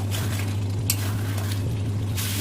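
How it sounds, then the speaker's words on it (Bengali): Fried potatoes stirred and sautéed in spice paste in hot oil for an alu dimer dalna curry: a steady, close sizzle broken by scraping stir strokes, with no talking. "ভেজে রাখা আলুগুলো দিয়ে একটুখানি আমি নেড়ে আলুগুলো বেশ 2 মিনিট মতো ভালো করে কষে নেবো"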